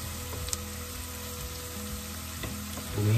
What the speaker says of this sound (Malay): tumis sehingga wangi baunya.